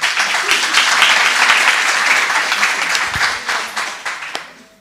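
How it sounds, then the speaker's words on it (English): An audience at a women's day event claps for a panel of speakers, a dense burst of applause that holds steady and then thins out into scattered claps before stopping. "Ladies, another round of applause for our panelists."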